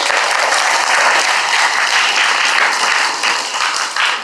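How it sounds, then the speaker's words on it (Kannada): A crowd of children and adults claps at a government Kannada school's enrollment drive event, giving loud, dense, continuous applause that holds steady before easing slightly near the end. "ಚಪ್ಪಾಳೆಯನ್ನು ಹೊಡಿರಿ."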